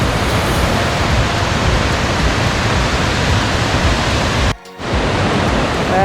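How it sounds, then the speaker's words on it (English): Water rushes steadily at the base of a waterfall, a loud, dense, unbroken roar that drops out briefly for a moment before resuming. "The bottom of the waterfall"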